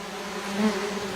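Uruçu stingless native bees buzz steadily at their hive, a dense close-up hum of many wings with a slight swell midway and no voices.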